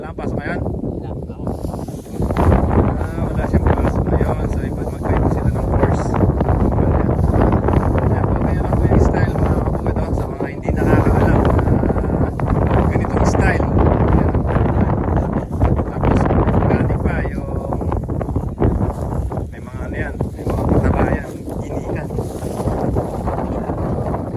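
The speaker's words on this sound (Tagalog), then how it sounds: "Buti na lang, lakas yung hangin." Loud, steady wind roars and buffets the microphone throughout, with people talking underneath and the rumble of a boat moving on water.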